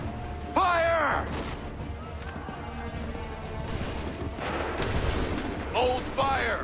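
Musket volleys ring out in the Assassin's Creed 3 video game. Loud gunfire cracks mix with battlefield clatter, and shouted orders come over the top.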